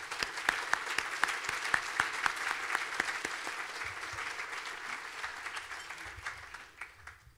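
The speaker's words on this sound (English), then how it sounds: "Let's give them all a big round of applause and thank you." A room full of people applauds at a hospice awards event, dense clapping holding steady for several seconds before gradually thinning out.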